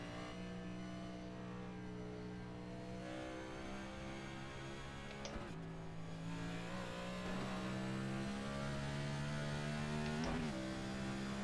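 A Next Gen race car in iRacing laps at a steady high-revving engine drone, with two quick upshifts breaking the continuous whine. No voices.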